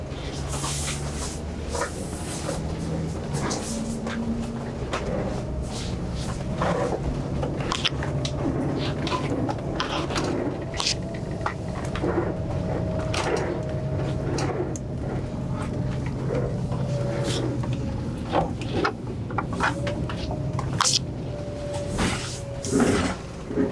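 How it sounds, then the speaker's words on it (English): Inside a 2022 Newmar Dutch Star 40-foot motorhome with a tag axle, driving down the road with the slide rooms in, cabinets and fittings clatter and rattle irregularly over a steady road and engine rumble. "show everyone what it's like with the slide rooms in while it's going down the road"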